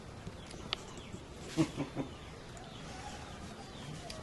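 Chickens in a West Bali village give a few faint, short clucks in a quick cluster of three, set against quiet outdoor background hiss.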